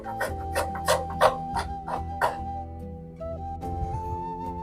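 A thumb-sized knob of ginger is scraped across a grater in repeated rasping strokes, close and moderately loud, while a faint tonal hum lingers.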